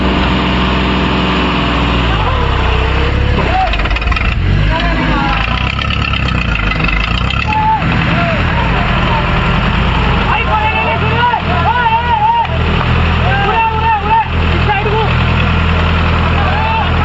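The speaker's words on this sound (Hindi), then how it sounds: "फुल जोम में है ट्रैक्टर।" A New Holland 5620 4x4 tractor engine runs at full throttle, loud and steady throughout, while people talk and shout over it.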